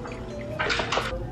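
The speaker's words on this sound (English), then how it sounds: "fill it up with water" Water pours into the reservoir of a Mr. Coffee iced coffee maker, a steady filling rush about a second long starting partway through, at moderate level with no talk.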